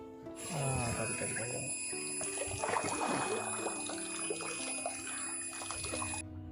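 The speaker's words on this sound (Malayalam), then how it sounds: "ഇനി നമുക്ക് നേരെ കുളത്തിലോട്ട് തന്നെ വെള്ളം ചാടിക്കാം" Water from a homemade filter pours steadily into a fish pond, a continuous splashing trickle heard up close, with a high electrical whine running through it.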